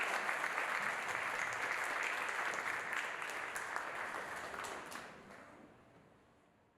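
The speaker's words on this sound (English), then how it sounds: "give our 4 panelists a big round of applause" Audience at an MIT AI conference applauding four panelists, dense clapping that holds steady for several seconds then tapers and fades out.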